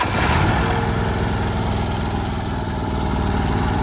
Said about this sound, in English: All right, so let's start this thing up. It's warmed up already, so I don't need to put the choke on, but it's just a matter of turning the key.